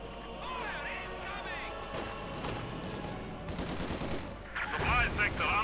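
Machine gun fire from an MG42 in a 1v1 Company of Heroes 2 battle, with rapid bursts and other gunfire and explosions in a dense, continuous wartime soundscape under voices.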